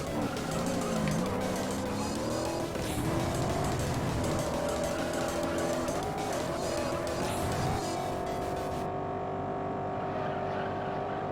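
Race car engine in Juiced, a loud sustained whine that climbs and shifts pitch as the car drives, with brief tire squeal, continuous and close.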